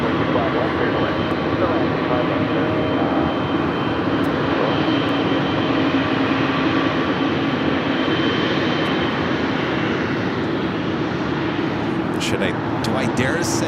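A Boeing 777 freighter jet at Los Angeles airport, a broad, continuous engine roar holding steady and loud throughout, with a few brief sharp clicks near the end.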